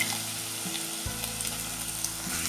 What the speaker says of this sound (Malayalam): ഇനി ഇഞ്ചിയും വെളുത്തുള്ളിയും നന്നായിട്ടൊന്ന് മൂപ്പിച്ചെടുക്കണം